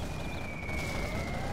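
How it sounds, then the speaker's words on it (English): Particle cannon firing in the C&C Generals Zero Hour strategy game, a sustained rumbling blast with a steady high whining beam tone running across it, continuous and moderately loud with no talk. "And there's the particle cannon."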